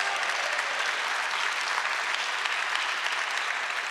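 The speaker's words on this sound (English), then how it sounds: "Give the Lord another big round of applause." An audience claps in a dense, steady round of applause at a morning forum, continuous and fairly loud throughout with no voices over it.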